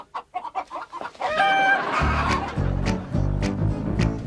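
Chickens clucking in bursts over a busy, noisy background with a low rumble and scattered clatter.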